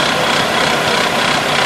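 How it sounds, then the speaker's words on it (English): A junkyard car engine, before any thermal treatment, idles loudly and steadily up close, a continuous rough drone with slight vibration and no voices over it. "Remember the sound of this engine before the thermal treatment."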